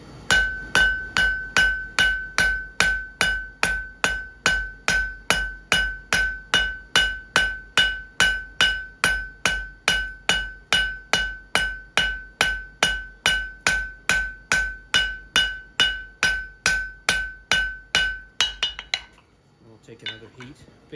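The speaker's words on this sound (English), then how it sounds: "using the cross peen hammer, I'm spreading the material out widthwise" A cross peen hammer strikes hot steel on an anvil while forging an outdoor fire poker, loud ringing blows in a fast, even rhythm for about eighteen seconds before stopping, followed by a faint clatter.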